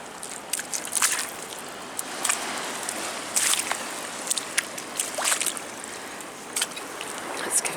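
An object is rinsed in water outdoors, giving steady splashing and sloshing with bright trickles and intermittent dribbles throughout, close by and fairly loud, with no talk.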